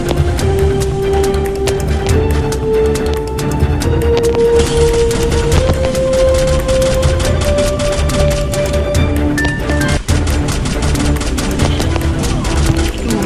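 Rapid bursts of video-game gunfire crackle continuously over a droning musical backdrop, loud and close.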